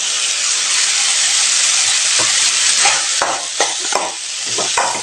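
Loud steady sizzle of boiled broad beans and grated coconut sautéed in a pan for poriyal, broken by repeated scraping stirs of a spatula, no voices.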